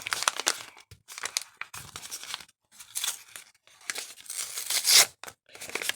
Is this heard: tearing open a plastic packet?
yes